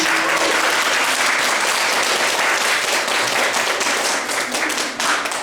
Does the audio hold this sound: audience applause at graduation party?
yes